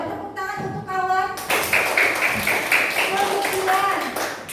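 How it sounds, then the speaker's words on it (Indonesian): An elementary school class claps for a classmate; after a moment of children's voices, a loud burst of many small hands clapping fills the room and continues steadily with voices mixed in. "tepuk tangan untuk kawan"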